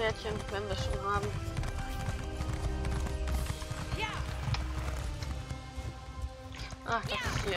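Horse hooves clip-clop in a steady rhythm in The Elder Scrolls Online, with game sounds in the background and someone talking over them throughout.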